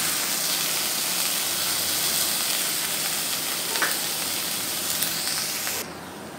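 Tomatoes with ginger-garlic paste sautéing in a hot iron pan for potato masala, a strong continuous sizzle and hiss with a few stirring clicks, dropping slightly in level near the end.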